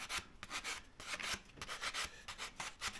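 An 80 grit sandpaper working over a diamond willow walking stick, rhythmic rasping strokes several times a second, close and fairly quiet, with no voices.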